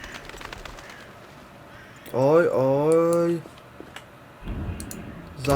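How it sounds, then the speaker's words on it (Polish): Startled pigeons in The Witcher video game give a loud, drawn-out cooing call lasting about a second, followed later by a rustling burst, over faint background game sounds and clicking. "Gołębie się straszyły."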